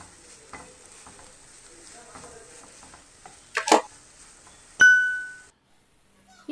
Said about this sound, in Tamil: மஞ்சள் தூளினுடைய பச்சை வாசனை போகிற வரைக்கும் நம்ம வதக்கி விட்டுக்கலாம்